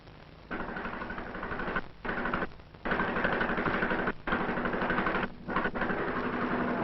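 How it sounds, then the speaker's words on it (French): A motor pump engine running on a Moroccan farm, recorded in 1949, chugging steadily in several bursts separated by brief gaps, with a low, even throb. "tu voudrais bien faire marcher les motopompes"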